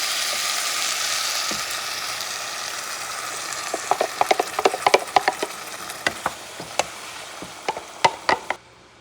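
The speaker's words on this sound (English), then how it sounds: "Add the coconut milk." Coconut milk poured into a pan of lamb curry sets off a loud, steady sizzle that fades gradually, while sharp stirring clicks and scrapes of a utensil grow more frequent toward the end.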